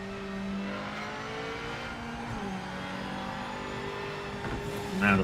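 A rally car engine in a video game held at full throttle, a steady sustained drone with slowly shifting pitch throughout, fairly close, with a brief louder burst at the very end.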